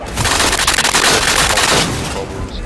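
Slug shotgun firing in Generation Zero, a burst of loud sharp reports in quick succession, harsh and dense for about two seconds before tapering off, with no speech over it.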